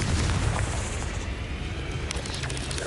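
A Confringo blasting spell going off in the video game Hogwarts Legacy, a dense roaring boom with heavy low rumble that lingers across the whole stretch, with faint crackling bursts overhead; no talking.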